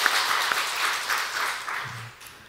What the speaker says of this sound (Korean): 우리 박수로 서로를 또 격려하면 좋겠고